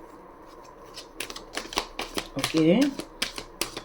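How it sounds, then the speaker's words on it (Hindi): Tarot cards are shuffled by hand in quick crisp riffles and taps during a reading, with someone talking over the papery clicks. "एक बार और शफल कर लो"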